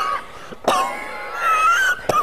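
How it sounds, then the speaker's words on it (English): A person coughs sharply twice, close and loud, with a wheezy, strained breath drawn out between the coughs. "Just stop coughing, for goodness sakes."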